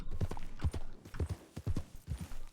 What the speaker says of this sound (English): Oh, that's got to be Callahan's horse